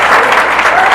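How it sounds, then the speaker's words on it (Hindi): Loud, dense audience applause fills a wellness-plan presentation hall, a continuous wash of many hands clapping without pause from start to end. "जोरदार तालियां दोस्तों"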